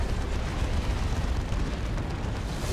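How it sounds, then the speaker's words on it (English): A Manticore artillery strike explodes in a Dawn of War 2 multiplayer battle, a dense rumbling barrage of overlapping booms that roars steadily and loud throughout, with no talk. "Manticore Strike almost finishes off the D cannon, but it does get away"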